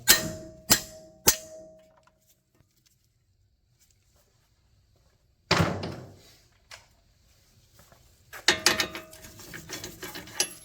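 Metallic clicks and clanks of a ratchet working on a nut on a Ford Explorer front axle, with a few sharp hits, a rattling burst mid-way and a quick run of ratcheting clicks near the end, close up with no talking.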